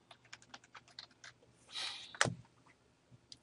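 Rapid light clicking of a computer keyboard with quick uneven keystrokes, close and quiet, followed by a brief hiss and a louder thud.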